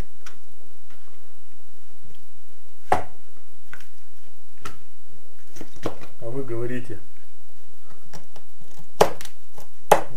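A knife strikes a cutting board in sharp, irregular chops, hacking through chicken bones with loud cracks, while a voice speaks briefly between blows.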